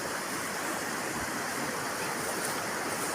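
Clear river water flowing steadily in a continuous broadband rush, close and uniform throughout with no talk.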